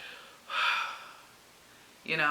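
A pregnant woman gasps breathlessly, drawing two sharp, audible breaths separated by a quiet pause, close to the microphone with no talking over them.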